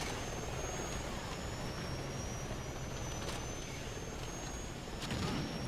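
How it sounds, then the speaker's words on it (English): A helicopter engine in the video game Call of Duty Ghosts gives a steady, loud mechanical roar with a whine on top, holding even throughout with no voices. "Got another chopper."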